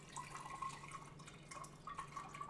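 Water trickling into a sprouting jar, a steady soft pouring and splashing that lasts throughout at a fairly low level, with no voices.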